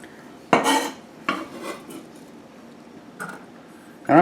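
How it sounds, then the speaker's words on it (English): Garlic and shallots tipped into a cooking pan, heard as a few separate clattering, rustling drops against metal, loud and close with quiet gaps between them. "Put our garlics in there, our shallots in there"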